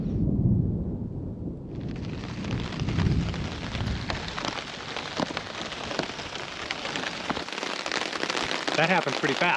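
Steady rain falls on a wilderness campsite with a partly pitched tarp near the Canadian border, a dense close hiss of drops on the surface lasting throughout, with low rumbling noise early on.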